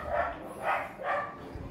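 A pet dog barks three times in an even rhythm, close and fairly loud, with a short pause between each bark.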